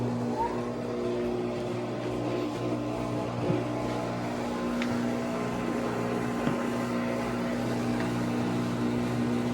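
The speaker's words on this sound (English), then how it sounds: "I'm going to put on a drain and spin cycle here." GE washing machine with its front panel off, running a drain and spin cycle after a 6-rib drive belt repair: a steady, close motor hum that drones on evenly, with faint clicks and no voices.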